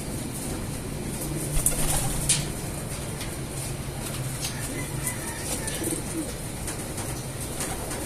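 Pigeons coo steadily at moderate distance, a soft continuous murmur over light background noise, with a brief louder flutter near the start.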